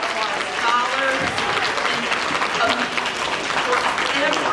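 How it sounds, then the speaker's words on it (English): Steady, dense audience applause at a kindergarten promotion ceremony, many hands clapping continuously at moderate volume with cheering and voices mixed in throughout. "Round of applause to all of our scholars"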